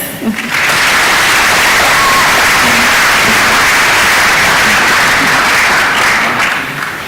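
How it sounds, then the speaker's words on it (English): Sustained audience applause at a national technology exhibition, a dense wash of many hands clapping at a steady, loud level from start to finish with no voices standing out. "A better round of applause,"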